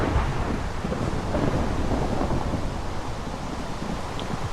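Thunder rumbles through steady rain in Minecraft with the Immersive Engineering mod, a dense, continuous wash of low roar and hiss, loud and close, with no distinct single crack standing out.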